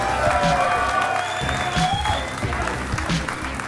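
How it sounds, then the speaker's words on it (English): An audience at a live Clash Royale tournament in Helsinki applauds, with dense clapping mixed with crowd noise and a few cheers that stay loud throughout. "ladies and gentlemen, one more time, a round of applause"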